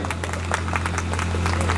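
Audience applause at a Hindi poetry recital of rousing verse, a dense steady patter of clapping sustained throughout over a constant low hum, with no voices standing out.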